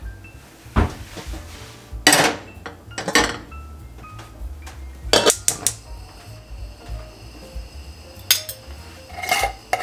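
Puree being moved into a pan in a home kitchen, with a few sharp clinks and scrapes of utensils against cookware spaced through quiet background, no talking.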